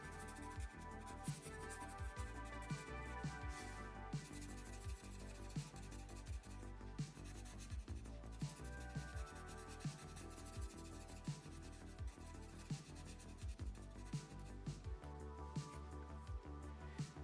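A pencil scratches and shades steadily on paper, filling in the eyebrows of a Cyborg cartoon drawing; the strokes sound soft, close and continuous, with rhythmic back-and-forth rubbing.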